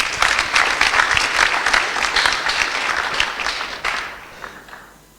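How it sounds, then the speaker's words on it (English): Audience applause at a Sunday Love Feast gathering for the speaker, dense steady clapping from a crowd that thins and fades out over the last second. "Please can we give Prabhu another round of applause?"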